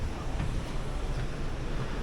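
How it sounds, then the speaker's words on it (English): The engines of a Costa Cruises ship rumble as it departs the port of Marseille, a low steady drone mixed with wind and water noise, continuous and fairly loud with no speech. "I can feel the engines rumbling"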